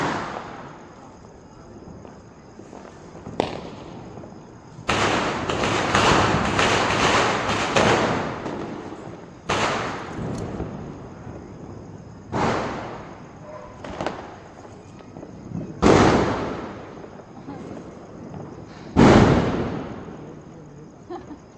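Diwali fireworks and firecrackers going off outdoors in a string of sharp bangs and crackling bursts, some dense and overlapping, others single loud pops spaced a few seconds apart, with people talking in the background.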